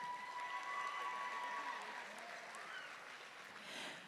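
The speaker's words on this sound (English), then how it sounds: "give her a round of applause" Audience applause in the arena at the Nebraska State Fair 4-H swine show, steady dense clapping heard from a distance and fairly faint, with a faint tone over it.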